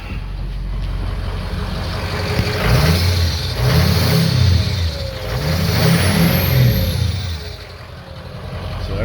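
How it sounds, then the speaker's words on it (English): A 2006 Ford F250 Lariat 4WD pickup revs three times in close succession, each surge rising and falling over a steady idle, loud and near with no talking. "We'll rev it a little bit so we can hear it"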